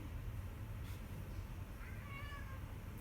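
A black cat gives a single faint, drawn-out meow late in the stretch, set against a steady background hiss in a room where someone is exercising.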